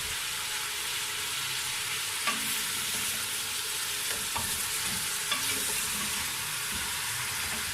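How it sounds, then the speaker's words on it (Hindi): Steady frying sizzle of goat trotters with occasional scraping stirs and clinks, close and continuous, no voices. "अब हम इनको भूनेंगे अच्छी तरह"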